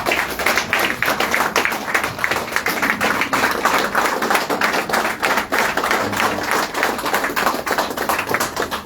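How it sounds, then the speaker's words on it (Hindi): A seminar audience claps steadily to welcome a speaker, with dense, continuous applause from a sizeable crowd in an indoor hall that stays even and close for the whole stretch. "अपनी जगह पे खड़े होके उनको बहुत अच्छी तरह से तालियों के स्वागत से उनका स्वागत करेंगे।"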